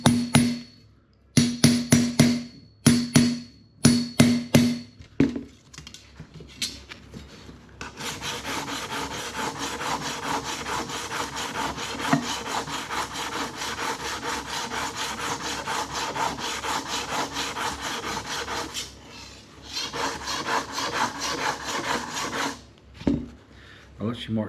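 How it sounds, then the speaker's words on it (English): Stainless steel moulding trim from a 1969 MGB is sanded by hand. Short rhythmic strokes with gaps come first, then long continuous scraping that carries on close and steady for many seconds. "we've been about 25 minutes just on sanding up the whole trim to locate all the little imperfections"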